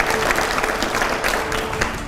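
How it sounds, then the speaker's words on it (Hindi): An audience at a public talk breaks into loud, dense clapping for a couple of seconds, a thick wash of hands with no break. "जोरदार तालियां हो जाए।"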